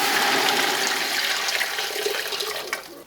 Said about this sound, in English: we're going to add a couple quarts of water to our soup